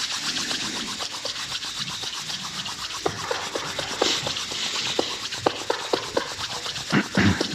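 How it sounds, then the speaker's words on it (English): Palms rubbing together briskly during a hatha flow yoga session, a soft, steady dry friction sound with faint scratchy strokes, close and quiet, with no talk. "As we rub the palms together,"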